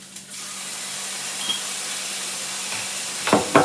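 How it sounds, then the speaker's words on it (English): Onions and minced garlic saute in olive oil with a steady, soft sizzling hiss, and a couple of light utensil clicks near the end; no one speaks. "We're gonna saute those onions a little bit, and we're gonna add in a little bit of our minced garlic."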